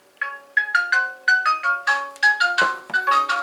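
A Nooie smart WiFi video doorbell chime plays a ringing melody of bright electronic tones, a series of clear stepped notes close by and loud, with no talking over it.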